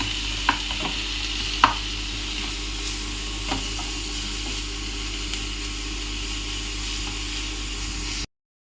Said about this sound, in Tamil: இனி இதோடு நல்லா வதக்கிடுங்க